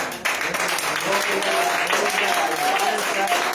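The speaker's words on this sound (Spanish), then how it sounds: "Aplaudan al Señor." Church congregation applauding, a loud sustained wash of clapping from many hands, with voices calling out faintly beneath it throughout.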